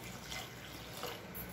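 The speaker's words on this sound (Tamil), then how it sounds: "இப்போ வந்து ஒரு மூணு டம்ளருக்கு தண்ணி சேர்த்துக்கலாம்." Water is poured from a tumbler into a pot of sambar, a quiet, steady trickling splash that runs continuously.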